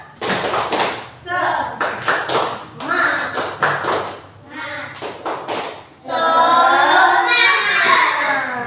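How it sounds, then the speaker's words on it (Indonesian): A class of children performs the rhythmic 'tepuk semangat' clap, sharp patterned claps and taps in quick groups, followed by the children chanting loudly together in unison near the end. "Tepuk semangat dulu yuk."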